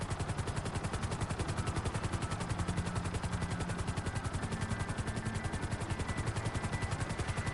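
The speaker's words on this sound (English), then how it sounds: "I'm used to flying helicopters." Helicopter rotor in GTA 5 Online during a Cayo Perico heist session, a steady rapid chopping whir that holds loud and constant throughout, with no talk over it.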